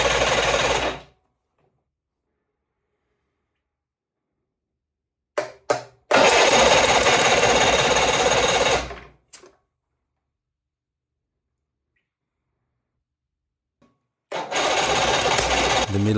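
A Volvo Penta 3-cylinder marine engine idles in loud, steady bursts, starting and stopping between long silent gaps, with no voices over it.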